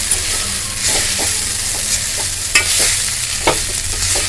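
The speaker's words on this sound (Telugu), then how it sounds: "ఒకసారి ఉప్పు వేసిన తర్వాత కలుపుకుందాము." Poha upma is stirred in a frying pan after salt goes in. A steady sizzle runs throughout, broken by soft, regular scraping strokes of the spoon.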